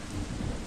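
Heavy rain pours with a low thunder rumble rolling underneath, a short, dense wash of storm noise used as an effect in an animated story, with no voices.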